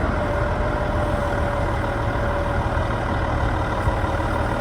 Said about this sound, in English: Just turn the throttle up on the truck a little more so you can get a little more hydraulic flow